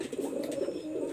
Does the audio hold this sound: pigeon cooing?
yes